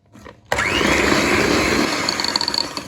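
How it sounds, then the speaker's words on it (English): An electric mixer whisks egg into butter and sugar for a lemon drizzle bento cake, starting abruptly with a loud, steady motor whirr and growing slightly rougher toward the end. "now I'm going to whisk it in with the butter and the sugar. Add in the egg and whisk."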